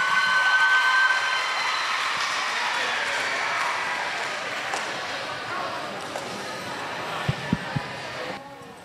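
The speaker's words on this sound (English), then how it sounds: "give a round of applause for our Turkish folk dance" Audience applause after a Turkish folk dance at a school international festival: a dense, steady wash of clapping that holds strong throughout and tapers off slightly toward the end.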